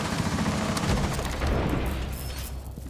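A heavy boom from a grenade going off in a video game, a loud dense blast that rumbles and fades slowly over a few seconds.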